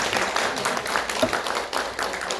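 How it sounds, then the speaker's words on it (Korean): A lecture audience at a Korean forum on death narratives and meditation gives a short burst of scattered clapping, moderately loud and fairly close, with faint murmuring underneath. "오늘 좋은 강의 해주신 이광욱 선생님께 다시 박수를 좀 부탁드리고"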